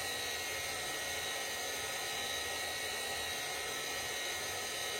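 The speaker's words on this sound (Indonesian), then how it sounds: "Selesai merapihkan fiber dengan mesin amplas gerinda" A high-pitched grinder whines continuously as it sands fiber on a handmade boot sole, a loud, steady, abrasive motor drone with no pauses or talking.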